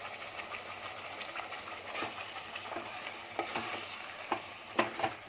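Chicken pieces fry in a pan for a Konkani chicken soup, giving a steady, fairly quiet sizzle with a few sharper crackles and pops toward the end.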